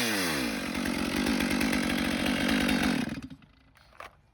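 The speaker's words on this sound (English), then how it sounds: "when you're boring into the tree, the top of your bar is gonna designate the direction that the chainsaw is gonna want to naturally kind of pull you" A chainsaw roars at steady high revs while boring its bar into a tree during felling, loud and close, then the engine drops off abruptly near the end and a faint brief knock follows.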